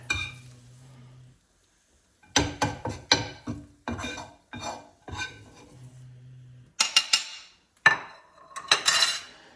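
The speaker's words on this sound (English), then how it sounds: "I'm gonna take these onions out and just transfer them to this plate right here for now" Cooked onions are scraped from a pan onto a plate with a metal utensil, making bursts of clinks and scrapes against the cookware, separated by stretches of low steady hum.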